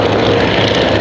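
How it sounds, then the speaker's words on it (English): A vintage airplane with a four-cylinder horizontally opposed engine drones loudly overhead at a WWI and WWII air show, a dense steady roar filling the moment. "four-cylinder, horizontally opposed engines"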